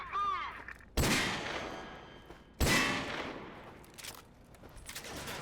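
Two loud, sharp gunshots from Call of Duty Modern Warfare 2 Remastered, each cracking out with a long reverberant tail, spaced about a second and a half apart, followed by quieter game ambience.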